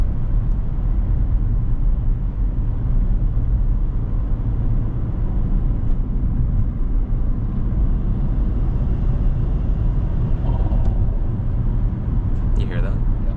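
A 2006 Subaru Legacy GTB with the 2.0 twin turbo engine and manual gearbox heard from inside while driving, a continuous low engine and road rumble, loud and steady throughout.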